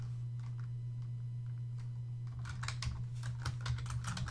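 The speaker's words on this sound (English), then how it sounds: "we're going to type the booth renter's name" Typing on a computer keyboard, a faint scattered key tap at first, then a quick burst of close, crisp keystrokes over a steady low hum.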